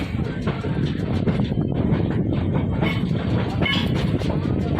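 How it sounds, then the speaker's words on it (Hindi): Steady rumble of trains moving through Saharanpur Junction railway station, loud and continuous throughout with rattling wagon noise, wind buffeting and faint voices mixed in. "स्टेशन बढ़िया है और यहाँ से लक्सर, मुरादाबाद, दिल्ली के लिए ट्रेन आप ले सकते हैं"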